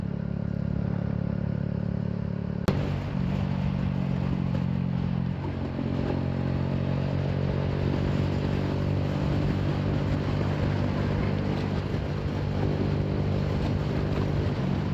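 A Yamaha YBR 125G motorcycle ridden along a road, its small single-cylinder engine droning steadily and close with a constant hum and wind rush, a brief sharp knock early on, and no talking.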